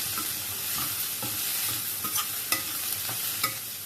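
Cabbage Manchurian being stirred in a hot pan with salt and black pepper, a steady sizzle and frying hiss broken by repeated scraping clicks of the spoon against the pan, close and fairly quiet, no talking.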